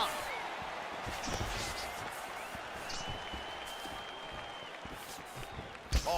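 A fired-up arena crowd roars steadily during a UFC 4 mixed martial arts bout, a continuous wash of cheering with a sharp burst near the end and commentators talking over it.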